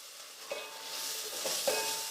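Chopped tomato cooking in a pan while a green chili is added, a broad steady sizzle with a few soft stirring knocks, close and even throughout.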